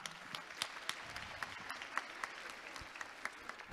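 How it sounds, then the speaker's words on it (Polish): Audience at an award ceremony for a youth age-group tournament applauding a special guest, a fairly faint, roomy patter of many hands with a few sharper individual claps standing out near the end. "Wielkie brawa."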